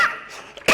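A man coughs sharply at the start and again at the end during an accounts lecture, heard close and loud in a quiet room.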